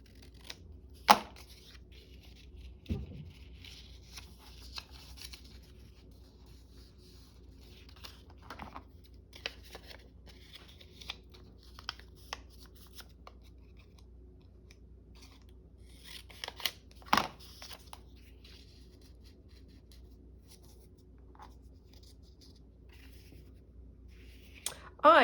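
Scissors snip through card while making a Christmas advent calendar shaker card, a few sharp, close cuts scattered among long stretches of quiet handling noise.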